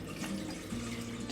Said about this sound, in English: I'm going to add a quart of water